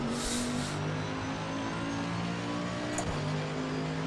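A race car in Assetto Corsa Competizione, driving a slow lap on cold tyres, gives off a steady engine drone with shifting tonal hum from the cockpit, continuous and fairly quiet.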